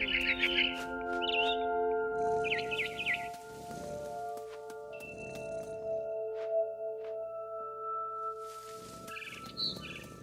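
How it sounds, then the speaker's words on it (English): A barn swallow chirps in the video game What Remains of Edith Finch, with short high tweets scattered over steady tonal game music and soft rustling ambience. "Then I heard chirping outside my window. It was a barn swallow going back to her nest."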